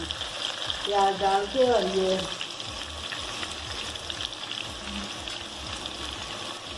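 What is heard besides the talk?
onions frying in hot oil on the stove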